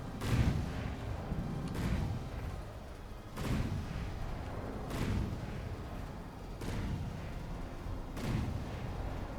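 Battleship guns fire in a Big Iron battleship tournament video game battle, a series of about six heavy booming shots at roughly regular intervals, each with a deep rumbling tail.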